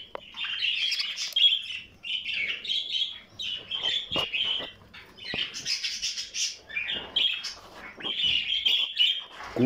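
A pet ornamental bird chirps and tweets close up in bright, repeated bursts of song with short pauses between them, loud and clear with no talking.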